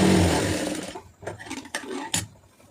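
A sewing machine stitches the shoulder seams of a cross-cut blouse in a loud, close burst lasting about a second, followed by scattered clicks and fabric-handling knocks.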